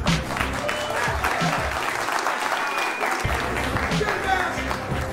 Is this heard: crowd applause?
yes